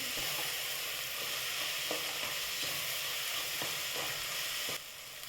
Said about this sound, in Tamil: இதெல்லாம் ஒன்றா சேர்த்து நல்லா வதக்கிடலாம்